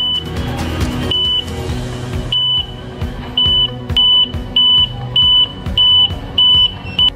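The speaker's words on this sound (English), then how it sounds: "the camera triggers an external audiovisual alarm" A forklift's anti-collision warning alarm beeps high and electronic in short regular pulses over the low rumble of its running engine.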